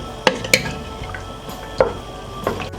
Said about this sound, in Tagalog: haluin lang natin ng konti